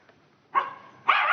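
Dogs barking in a Walking Dead scene: two loud, close barks separated by a short pause, each sustained briefly after a quiet start.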